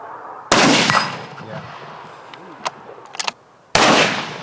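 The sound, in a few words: rifle shot at a muntjac deer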